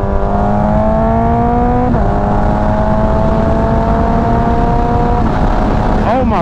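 A Kawasaki ZX14r motorcycle accelerating hard on a curvy road, its engine note climbing steadily through the gears with quick shifter changes, loud and close under constant wind roar.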